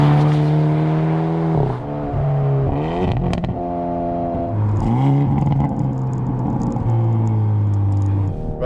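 Simulated engine burble from a 2024 Hyundai Ioniq 5 N electric car accelerating, loud and close, with stepped rising tones like gear changes, brief drops and pops between shifts, and a steady synthetic rumble throughout.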